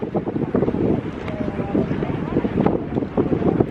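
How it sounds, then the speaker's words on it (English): Strong wind buffets the microphone at a hilltop viewpoint in Athens, a rough, gusting roar that swells and dips continuously and sits close and loud. "I hate the wind"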